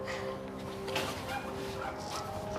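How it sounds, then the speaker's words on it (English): A pit bull dog barks and whimpers in a busy setting, its yips blending into a steady wash of background noise at moderate distance. "It's a pit bull dog."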